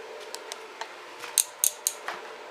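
Scissors or snips cut through Jeep TJ floor material in a series of sharp, close clicks and snips, a few louder crisp cuts in the middle, with no talking.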